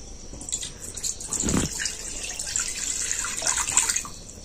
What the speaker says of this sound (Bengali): এবার আমি কড়ার মধ্যে দিয়ে দিচ্ছি দুধ।